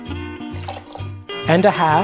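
Appleton Signature rum is poured, one and a half ounces, into a Mai Tai cocktail, a soft liquid trickle running under steady talking.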